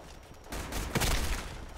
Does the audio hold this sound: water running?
no